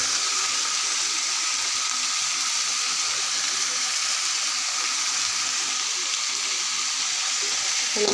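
Onion slices and three potatoes frying in a pan with turmeric, a loud, dense and continuous sizzle that holds steady from start to finish with no talking.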